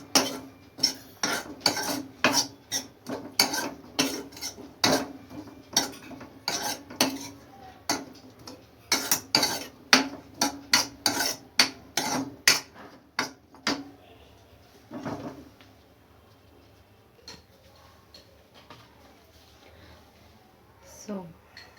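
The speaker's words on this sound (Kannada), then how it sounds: "ಸೊ ಇದನ್ನು ಚೆನ್ನಾಗಿ ಮಿಕ್ಸ್ ಮಾಡಿಕೊಂಡು" A spoon clinks and scrapes rapidly against a bowl while sweet corn is mixed, a dense run of sharp metallic taps that thins out and fades to sparse quiet knocks near the end.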